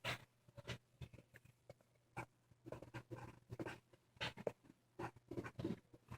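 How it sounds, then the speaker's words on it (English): Pen on paper in a math lesson: quiet, irregular bursts of scratchy strokes in short clusters, close up, with brief pauses between them. "Okay, write it down."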